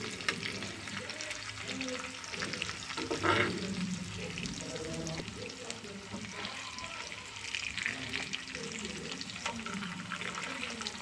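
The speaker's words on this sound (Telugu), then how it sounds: "చేప ముక్కలు వేసుకున్నాక మంట మీడియంలో పెట్టి ఫ్రై చేసుకోండి." Fish pieces fry in a pan over a medium flame, giving a soft continuous sizzle with occasional bubbling and clinks. The sound stays fairly quiet and even, with no talk.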